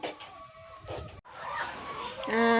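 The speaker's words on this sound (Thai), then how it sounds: "ไปให้อาหารไก่ไก่ร้องแล้ว" Hens and a rooster call at feeding time on a Thai egg farm, with clucks and a drawn-out crow near the end, mixed with some background talk.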